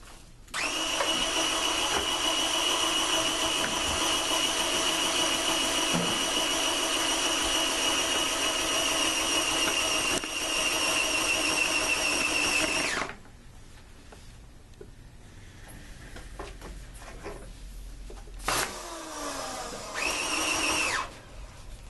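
Flexio 990 electric spray paint gun switched on, a loud steady high-pitched whining motor drone running continuously for about thirteen seconds, then cutting off, followed by quieter handling noise and a second short burst of running.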